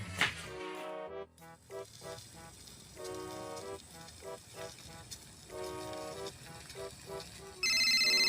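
A telephone ringtone plays a repeated electronic melody in short bursts with brief gaps, fairly clear and close.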